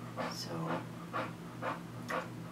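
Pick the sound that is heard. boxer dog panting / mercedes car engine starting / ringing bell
boxer dog panting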